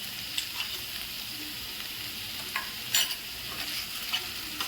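Spice paste seasoned with turmeric and salt, being stir-fried in a pan for a Bengali dim aloo curry, gives a steady close sizzle with light scraping and stirring clicks throughout.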